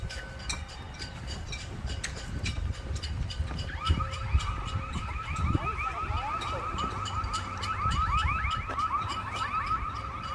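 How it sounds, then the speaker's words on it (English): A car alarm wails outside a facility, cycling through rising and falling electronic tones that grow steadier and more insistent over the span, heard at a distance over low street rumble, with no talking. "It's annoying around here with all the sirens and alarms,"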